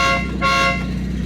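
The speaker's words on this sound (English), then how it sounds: "It's got dual air horns." Factory dual air horns on a Lancia Zagato car sound a loud, close, steady two-tone honk that runs the length of the brief blast, with no voices over it.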